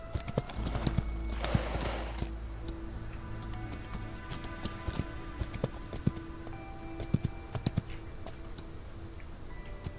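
A pony in a cowboy video game clops its hooves in an irregular run of ticking steps, with a brief whinny early on, heard fairly close over a faint steady background hum.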